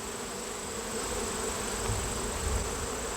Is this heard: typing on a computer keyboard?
no